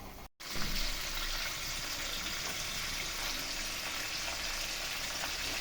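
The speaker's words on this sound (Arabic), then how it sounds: "لازم تكوني بتقليه في زيت كتير، والنار بتاعته تكون هاديه جدا عشان ما يتحرقش منك بسرعه" Breaded panné frying in plenty of oil over a very low flame, a steady close sizzle and crackle running throughout after a brief dip in sound near the start.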